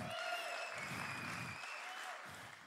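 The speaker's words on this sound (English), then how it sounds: "yes, you can applaud" A live podcast audience welcomes a guest with applause: a soft, distant wash of clapping that swells and dips in several waves, kept faint in the background.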